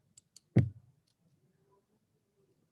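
A single sharp key press on a computer keyboard, Enter being struck while data is entered in accounting software, comes as one crisp click with a few faint taps before it, set in near silence.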